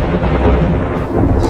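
Loud, rolling thunder rumbles steadily before rain, a deep sustained roar filling the short stretch with no voices.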